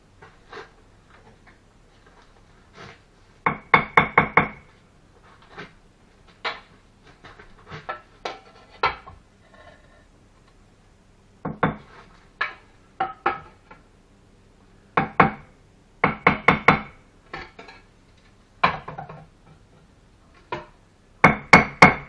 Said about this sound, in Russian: Резиновым молоточком, кто боится.